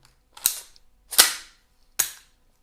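Crossfire .410 shotgun on an AR-15 platform being checked empty: three sharp, loud metallic clacks of the action being worked, evenly spaced, with silence between them.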